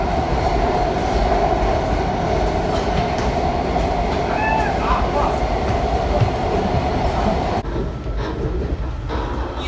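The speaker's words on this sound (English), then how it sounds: "This is a red line train." A Red Line subway car rolls along with a loud, steady rumble of wheels and track noise, with a faint whine partway through and a brief drop near the end. Faint talk sits under the din.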